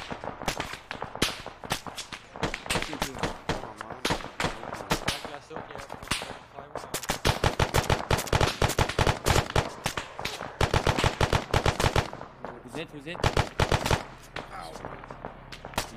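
Arma 3 military-simulation firefight: rapid bursts of automatic rifle and machine-gun fire crack repeatedly, some close and loud, others more distant, with players talking over the shooting throughout.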